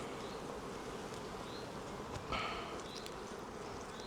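Honey bees buzz steadily around an open hive as a frame is worked, a dense, even drone with a few individual bees passing close by, and no voices.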